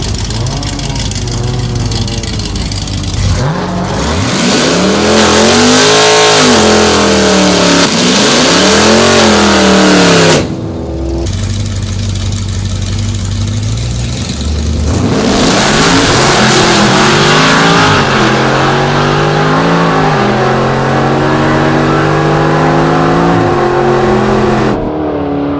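A 1000hp Camaro ZL1 on nitrous makes a drag pass, its engine roaring loud and close, revving hard through several rising sweeps with gear changes and short breaks.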